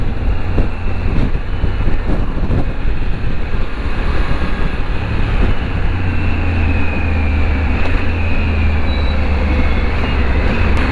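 A 2024 Triumph Tiger 900 Rally Pro on Pirelli Scorpion Rally STR tyres being ridden under throttle, its engine a constant low, rough drone mixed with heavy wind rush, loud and close throughout.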